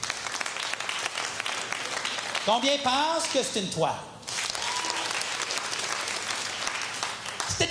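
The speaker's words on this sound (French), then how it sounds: "Applaudissez." Comedy-show audience applauding in a theatre, dense broadband clapping throughout that continues beneath a voice speaking over it in the middle before the clapping carries on alone.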